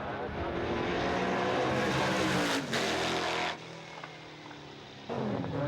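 A Formula 5000 Lola race car roars along a beachfront road in a sprint, its engine loud and close with a sustained high-revving note that drops off as it passes, followed by quieter ambient noise.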